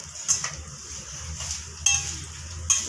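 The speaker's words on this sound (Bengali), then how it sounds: "মোড়াই নিয়ে ভাজি নিচ্ছি।" Aloo chop, potato croquettes dipped in gram-flour batter and coated in breadcrumbs, frying in hot oil, with a steady soft sizzle and a few sharp utensil clinks against the pan.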